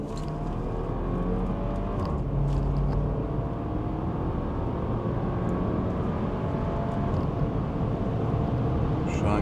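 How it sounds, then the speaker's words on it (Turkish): A 2018 Porsche Macan 2.0 T with 252 hp driving in sport mode, with a steady loud engine and exhaust drone from inside the car and faint shifts, with no voices. "Sport modda egzozda da bir vana açılıyor sanırım. Çünkü vites aralarında bir ses yapıyor."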